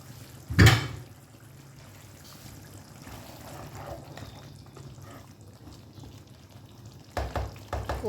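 Cumin and coriander powder cooking in a pan for a qorma, with a soft steady sizzle, a sharp scraping stir near the start and another burst of stirring toward the end.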